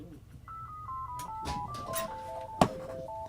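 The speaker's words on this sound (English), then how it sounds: "That is a phone call for my mom." A phone's melodic ringtone plays for an incoming call, a sequence of stepped electronic beeps rising and falling in pitch, moderately quiet, with faint background noise and a brief knock partway through.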